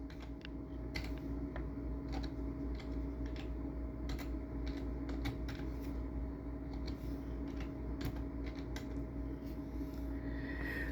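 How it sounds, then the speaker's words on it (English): Keys clatter on a computer keyboard in quick, uneven bursts of light taps over a steady electrical hum, close and fairly quiet. "I'm going to type in the phrase storage spaces."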